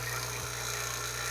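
Vacuum pump pulling a vacuum on an HVAC aluminum evaporator coil, a steady close-up mechanical hum with a constant low tone and no break across the short stretch.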